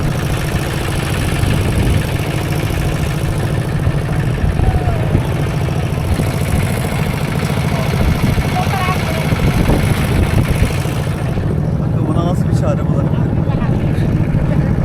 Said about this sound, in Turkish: Şu ana kadar bindiğim en değişik traktör.